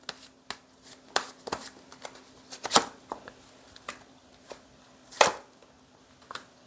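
Tarot cards being shuffled and drawn by hand on a table, a quiet scattered series of sharp card slaps and flicks, close up with irregular timing.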